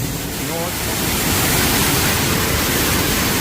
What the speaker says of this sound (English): this waterfall in Bali, but it's more of a spillway